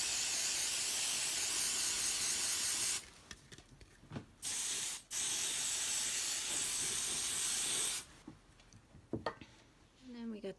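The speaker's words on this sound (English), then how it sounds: "nail polish dryer, you know, the spray one." A spray nail polish dryer hisses loudly for about three seconds, then comes two brief bursts and a longer sustained spray, with faint handling sounds between.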